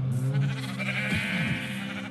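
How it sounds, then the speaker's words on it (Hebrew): A sheep in Minecraft gives a single wavering bleat, close and clear, lasting about a second and a half with no talk over it. "ומי שצריך לדעת שזה כבשה"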